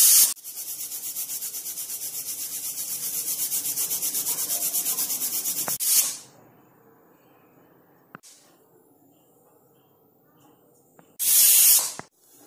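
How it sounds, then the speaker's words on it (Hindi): A pressure cooker whistle releases steam in a loud, steady hissing rush for about six seconds, then cuts off into near silence. A second short, sharp burst of venting follows near the end. "2 से 3 विसल आने देंगे"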